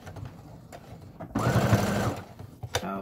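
A sewing machine stitches a reusable fabric snack bag, running in a steady, fast mechanical whir for about a second before it stops.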